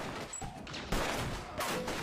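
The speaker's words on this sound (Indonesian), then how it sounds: "terjadilah baku tembak" Dense, continuous gunfire in a shootout from The Walking Dead season 1 episode 1, with sharp bursts and heavier blasts over a broadband roar, fairly loud throughout.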